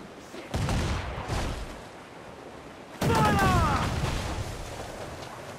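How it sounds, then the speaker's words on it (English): Heavy-shot cannon broadside from a sailing warship in Assassin's Creed IV: Black Flag, booming in a rolling volley of loud blasts with a big burst near the end, with no talking over it. "Use one broadside to use heavy shot to sink ships"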